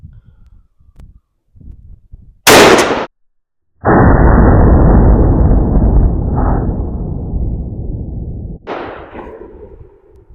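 A 10 gauge shotgun fires a Salt Creek 3 ounce TSS turkey load outdoors in the wind, one loud sharp blast standing out on its own. A long steady rumble follows, then a brief burst of noise near the end.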